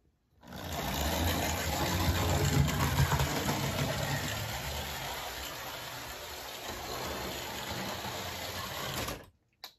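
A repaired model train locomotive runs on its track, its small motor giving a continuous whirring buzz close up, steady for several seconds before stopping abruptly.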